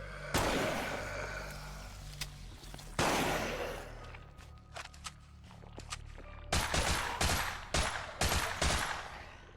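Video game gunfire from a shooter that allows headshots and shooting off specific body parts: loud, heavy volleys and bursts early on, a quieter rumbling stretch, then a string of sharp, separate shots close together near the end.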